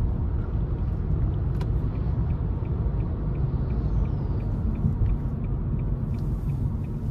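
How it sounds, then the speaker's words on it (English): Cabin of a 2023 Nissan Leaf S electric car under hard acceleration, a steady loud low road and tyre rumble with faint motor whine, no engine note, continuous throughout. "I had just a little bit of front wheel spin as I kind of put my foot to the floor."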